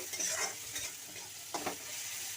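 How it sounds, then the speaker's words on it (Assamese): Dhekia fern greens stirred and frying in a pan over low heat, a soft continuous sizzle broken by a few scraping stirs of the spatula, close and quiet. "এইখিনি এতিয়া মই ধুনীয়াকৈ লৰাই দিওঁ। আপোনালোকে এইটো কম জুইতে ভাজিব,"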